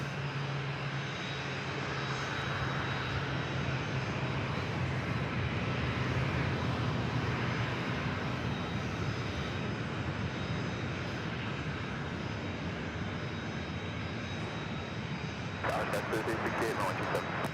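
A Southwest Airlines Boeing 737-800 jet airliner roars in a steady, broad engine rumble that holds loud throughout, with talk over it and a brief crackle near the end.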